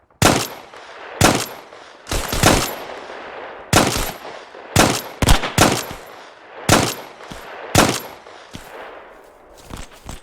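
Repeated bursts of gunfire in the World War II shooter game Hell Let Loose, sharp close cracks and short machine-gun volleys spaced irregularly with brief pauses between, loud and without talk.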